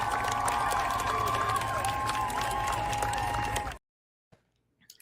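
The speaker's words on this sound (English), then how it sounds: "Standing ovation, MVP chants" A large crowd roars and claps in a sustained standing ovation, dense cheering and applause filling the space loudly before cutting off abruptly into near silence.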